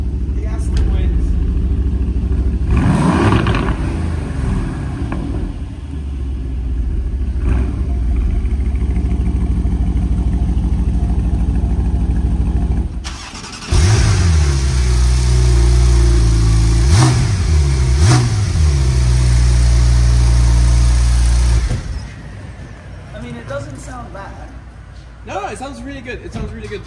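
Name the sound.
Aston Martin V8 car engine starting and idling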